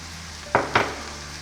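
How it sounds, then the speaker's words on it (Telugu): Ginger, garlic and green chillies fry in a pan over a faint background hiss, with two quick bursts of sizzling and stirring close by. "పచ్చిమిరపకాయలు అలా కాసేపు వేగాలన్నమాట."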